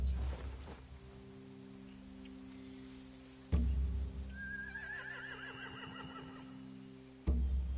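Horses whinny in The Walking Dead video game, one long wavering neigh over a low steady hum, set apart by a few sharp thuds. The sound is moderately close and no one speaks.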